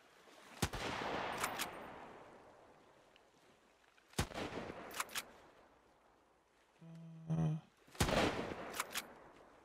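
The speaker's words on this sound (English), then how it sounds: "I'm going to stop shooting at him because there might be something blocking the shot." Gunfire in the survival game Sunkenland, several sharp single shots spaced a few seconds apart, each followed by a fading rumbling tail, with a brief mechanical whir between them.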